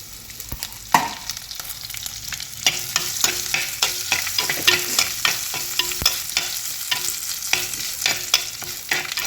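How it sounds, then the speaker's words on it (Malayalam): Mustard seeds splutter in hot oil with curry leaves, sharp irregular pops and crackles as seeds burst, a busy spattering close by with no voices. "കടുക് പൊട്ടിയിട്ടുണ്ട്"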